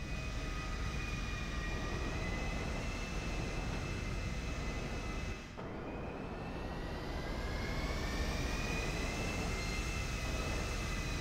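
An airplane in the video game GTA drones with a steady, loud engine roar and whining tones, continuous throughout with a brief dip midway before the drone resumes.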